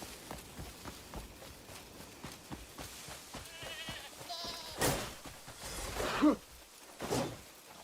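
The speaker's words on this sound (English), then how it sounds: "These goats are scared as shit right now." Goats bleat faintly in the Crimson Desert video game, a few thin wavering cries mixed with running footsteps and dull thuds in a busy, low-level soundscape.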